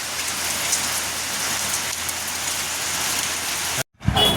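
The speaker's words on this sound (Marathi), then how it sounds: "नेमका जायच्या वेळेस पाऊस चालू झालाय" Constant early-morning rain drumming on surfaces up close, then a sudden brief cut to silence before the sound returns.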